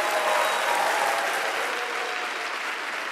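Steady applause from a church congregation at a Sunday service, a dense, even wash of clapping that fades slightly toward the end, with no talk over it.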